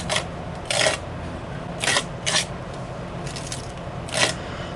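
Gritty texture paste is spread across a craft card in a few short, separated rasping scrapes, close up and fairly quiet, with no talking.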